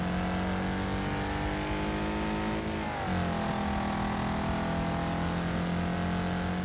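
A fully upgraded car called the Rocket roars flat out down a long straight in a racing video game, a loud sustained engine drone with steady high harmonics that dips briefly mid-run, then climbs again.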